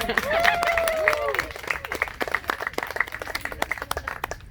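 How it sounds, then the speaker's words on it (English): A small tour group claps on a convict-history tour of St Helena Island, scattered hand claps building after a brief whistle-like tone, with voices talking over and among the clapping. "Can we please give her a big round of applause?"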